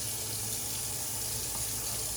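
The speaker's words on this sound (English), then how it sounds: "Shoot some cold water." Cold water runs steadily from a bathroom tap into a sink in a dark room, a continuous close splashing hiss with no talk over it.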